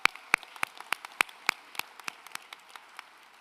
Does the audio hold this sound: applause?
yes